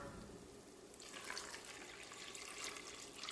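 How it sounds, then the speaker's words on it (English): Tap water runs into a cooking pan with a steady splashing rush that grows fuller after the first second, close and moderately loud with no talking. "I'm just gonna add some water."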